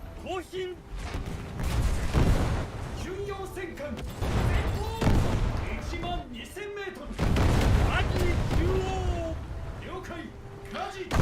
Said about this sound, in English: I think that's a Scharnhorst shooting at me.